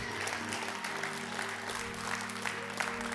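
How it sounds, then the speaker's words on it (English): A church congregation claps its hands in a steady crowd patter, a fairly soft and diffuse wash with a low sustained hum running underneath. "Somebody clap your hands"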